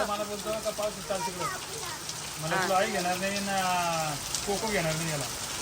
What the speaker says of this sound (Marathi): एवढा पाऊस चालू आहे